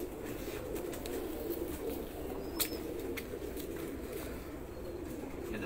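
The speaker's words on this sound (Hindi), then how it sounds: "आज यूएई के नायाब कबूतर दिखा रहे हैं इनको" Rare UAE pigeons cooing faintly in a soft, steady backdrop, with one brief sharp click partway through and no voices.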